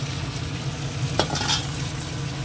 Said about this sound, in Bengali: একটু নেড়ে নিই